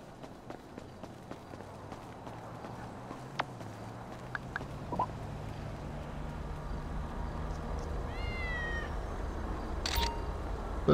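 Near the end a short cat meow from Grand Theft Auto V rises over steady game background noise and scattered taps.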